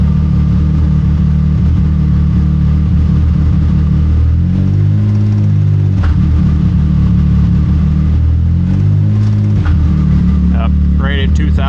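A Can-Am X3 side-by-side engine idles loud and close with a deep rumble, rising in a couple of brief revs toward 2000 RPM before settling back, while someone talks over it.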